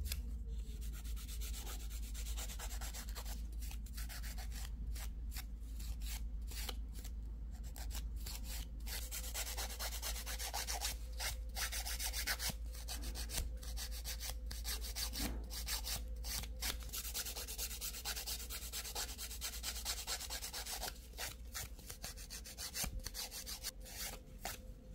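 A nail file rasps back and forth across fingernails, shaping them round in a salon-style manicure: steady, close, continuous filing strokes in a quick even rhythm over a constant low hum, with no talking.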